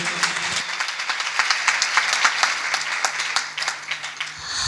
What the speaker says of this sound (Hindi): आप सबकी ज़ोरदार तालियों में सिस्टर फरजाना।